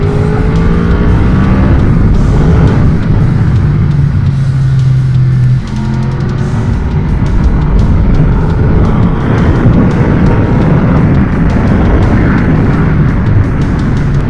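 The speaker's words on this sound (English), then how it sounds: "It is a torquey engine, I can confirm it." A Honda VFR800Fi motorcycle engine pulls hard under heavy throttle, a loud, continuous close-up roar with rising engine tones, joined by wind rush, holding steady with only a brief dip midway.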